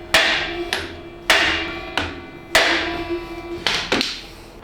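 Hammer strikes on a Jeep axle housing being swapped onto a small Amigo, about seven sharp metallic blows at uneven intervals, each ringing out with a sustained metallic tone, close and loud with no talking.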